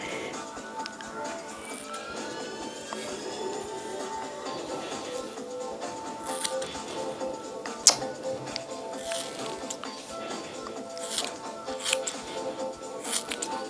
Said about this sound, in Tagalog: we are cutting your hair